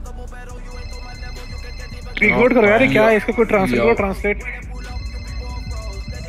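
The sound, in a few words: phone ringing in GTA V roleplay video game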